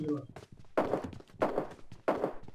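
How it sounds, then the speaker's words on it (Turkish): Footsteps in the battle royale game PUBG Mobile, three heavy thudding steps spaced evenly and close by, with someone talking over them. "Ayak sesi var."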